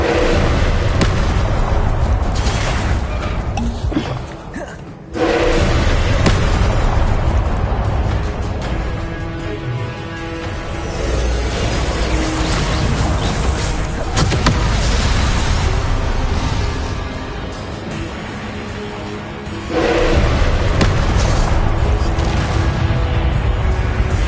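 Spell blasts and explosions from the video game Hogwarts Legacy, a dense, loud run of booming bursts and crackling pops with barely any pause, one brief dip near the start before the barrage resumes.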